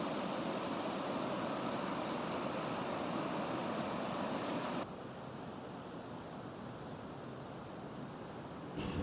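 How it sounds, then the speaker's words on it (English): Ocean waves surge and wash against a dock near an aerial lift bridge, a steady broadband roar that drops noticeably softer halfway through, with a brief swell near the end. "I love coming down when you got waves like this"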